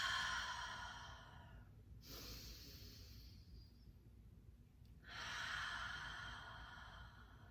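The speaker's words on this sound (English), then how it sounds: "3 deep breaths." Three slow, deep breaths, each a long airy rush of inhale and exhale with quieter pauses between, close and clear with no talking, during a talk on owning your willpower.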